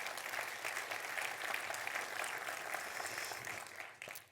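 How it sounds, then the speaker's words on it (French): Audience applause for a geography lecturer at a regional forum in Vendée, a steady, moderately distant patter of many hands that fades out in the final moments. "On peut l'applaudir également."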